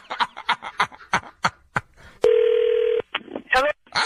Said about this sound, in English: Call him back, Cat